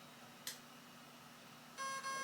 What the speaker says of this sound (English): And now it beeps twice